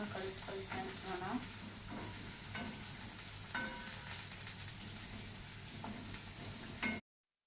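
Red amaranth curry ingredients are stirred in a hot pan, sizzling steadily with scraping and clinking strokes throughout, close up and fairly quiet, ending abruptly.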